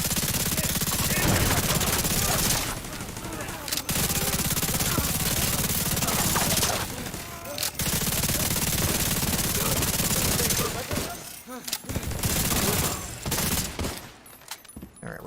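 Sustained automatic gunfire in The Division 2 video game, loud continuous bursts of rapid shots broken by short pauses, with a little player talk in the background.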